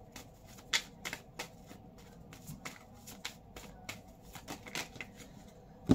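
Tarot cards being shuffled and drawn: a quiet run of soft riffling flicks and sharp papery snaps, spaced irregularly and closing with a louder slap.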